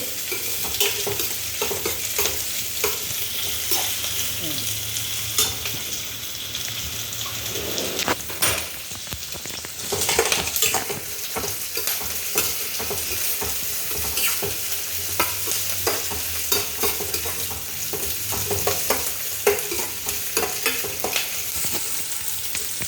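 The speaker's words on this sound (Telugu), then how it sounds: "ఫ్రై చేస్తున్నా. లైట్గా బ్రౌన్గా వచ్చేంత వరకు బాగా వేగించాలి." Onions frying in a pan for a chicken fry dish, cooked until lightly browned: a continuous close sizzle with stirring scrapes throughout, with no talking.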